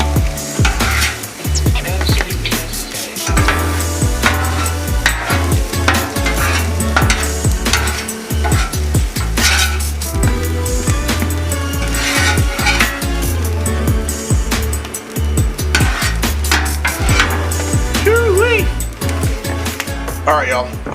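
Steak and vegetables get mixed on a hot griddle with a metal spatula, steady loud sizzling under rapid repeated scraping and clanking strokes throughout.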